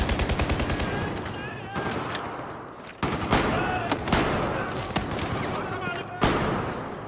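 Gunfire in the video game Battlefield 4, a rapid automatic burst at the start followed by repeated loud single shots at irregular intervals, with someone talking over them.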